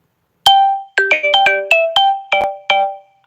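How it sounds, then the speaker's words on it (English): A phone ringtone plays loud and close, a rapid melodic sequence of bright electronic tones repeating in quick bursts, with no voices over it. "I don't even know if y'all can hear the ring."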